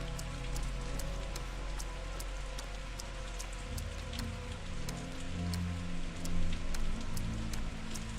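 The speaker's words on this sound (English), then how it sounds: "It's raining. I love it when it rains in games." Steady rainfall in the video game Pathologic 2, a constant soft patter of drops on surfaces with faint sharp ticks, even and moderately quiet over low background tones, no voices.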